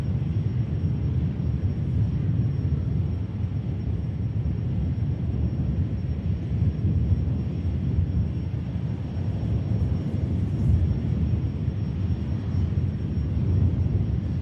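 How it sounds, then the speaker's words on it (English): An EasyJet airliner arriving from Amsterdam at Manchester Airport makes a steady, low, rumbling engine roar that stays constant throughout with no talk. "We have EasyJet coming in from Amsterdam"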